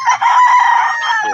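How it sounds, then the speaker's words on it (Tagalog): A gamefowl rooster at the Pandacaqui Gold Game Farm gives a single loud, close crow that rises and then trails off, with no talk over it. "Ang gandang manok."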